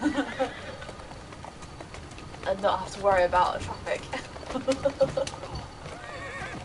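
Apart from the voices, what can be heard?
horse galloping and neighing in the video game Assassin's Creed Syndicate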